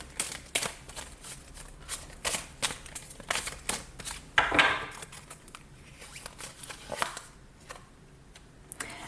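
Large oracle cards being shuffled by hand: soft, rapid rustling and riffling in uneven bursts, close and fairly quiet, with no speech.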